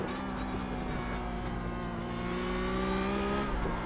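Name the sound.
Porsche Cup race car engine in iRacing video game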